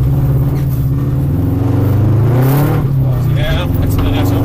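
A rally car's engine drones loudly from inside the cabin, pitch climbing gradually through an accelerating gear, with a voice talking over it.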